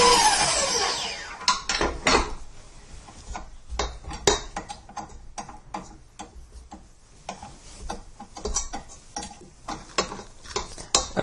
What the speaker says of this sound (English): put the room temperature stick of butter and the 3 ounces of room temperature cream cheese in a mixer with the paddle attachment